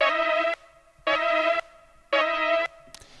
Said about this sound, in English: these synth arps